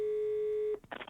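Telephone sounds in the Murder on the Orient Express game: a steady electronic tone holds for most of a second, then cuts off and gives way to a few short dialing beeps and clicks.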